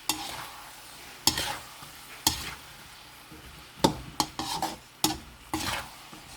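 Thinly sliced beef stir-fries in a pan, a soft sizzle running under a series of sharp utensil scrapes and clanks spread unevenly across the stretch, with no voices.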